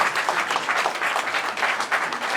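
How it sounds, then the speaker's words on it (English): Audience applause at an ECOWAS AVIANA 2019 poultry industry event, continuous rhythmic clapping from a crowd, moderately loud and steady throughout. "Round of applause for him."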